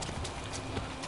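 A horse's hooves trot in the video game Ghost of Tsushima, a quick, dull clip-clop rhythm under a muffled, noisy mix.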